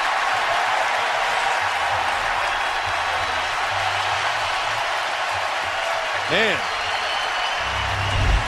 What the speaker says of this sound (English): that is one appreciative crowd for a 3-yard run